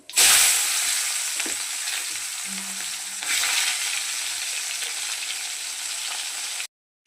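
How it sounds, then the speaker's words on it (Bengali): Whole cumin seeds and chopped onion hitting hot oil in a pan after fish is fried, a loud burst of sizzling that settles into steady crackling frying, then cuts off abruptly. "এবার আমি ফোড়নে দিয়ে দিচ্ছি গোটা জিরে। এই যে গোটা জিরে দিয়ে দিলাম, দিয়ে দিচ্ছি পেঁয়াজ কুচি"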